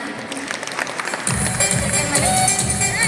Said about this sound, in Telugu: వాళ్ళకు మరొకసారి నా తరఫు నుండి గట్టి క్లాప్స్ ఇద్దాం